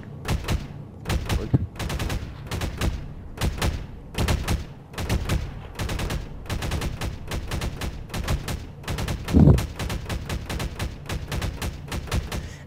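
Rapid bursts of video-game gunfire fired at a Vortigaunt cave in a cooperative strategy match, loud, dense and repeated volleys in quick succession running throughout without pause.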